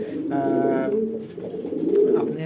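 Pigeons coo in soft, low, rolling calls at close range, one bird's throaty call overlapping others in a brief flurry of cooing.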